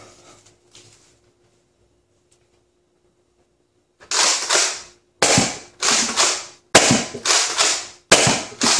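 Entry-level Apollo toy foam blaster fired repeatedly: after a quiet start, a series of loud, sharp snapping bursts with short decaying tails, about eight shots in quick irregular pairs, close by.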